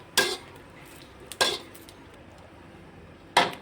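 Ingredients for a Thai chili dip are dry-roasted in a pan, with three sharp metallic scrapes and clanks of a utensil against the pan spaced out over quiet, close and without talk.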